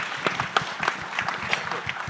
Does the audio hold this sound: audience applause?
yes